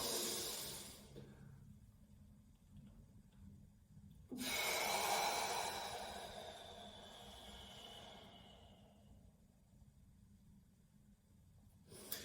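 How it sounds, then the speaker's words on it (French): Deep diaphragmatic breathing during a warm-up: a strong inhale, a held pause of silence, then a long, slow, breathy exhale that fades away, close and soft. "Je prends le maximum d'air, je bloque. Je sors bien la poitrine, j'avance bien mon sternum et je souffle."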